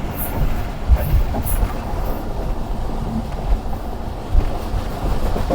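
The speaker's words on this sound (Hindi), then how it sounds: "बिना रुके ट्रेन मनक्याला को क्रॉस कर रही" The Pakistan Express rushes through Mankiyala railway station without stopping, heard from on board as a loud, continuous rumble with faint rhythmic wheel clacks and occasional sharp knocks.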